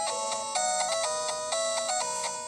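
Plinky, carnival-like chiptune credits music from the Robocop NES video game plays alone. It is a bright, bouncy synth melody over a steady rhythm.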